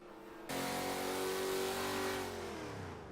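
A 1970 Buick GSX muscle car engine revs hard in Forza 7 after a short quiet start, a loud, steady, rising engine note with rich harmonics that holds for about two seconds and then eases off slightly.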